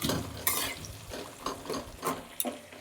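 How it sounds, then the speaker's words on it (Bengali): Onion and tomato quarters fry in a hot pan while being stirred, with scraping spoon strokes and clinks over a steady close sizzle. "এবার আমি এগুলোকে ভালো করে লাল লাল করে ভেজে নেব"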